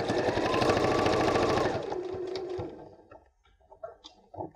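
A sewing machine runs steadily stitching fabric on a small padded scissors case, a dense mechanical whir for about two seconds that slows and stops, followed by quieter handling clicks.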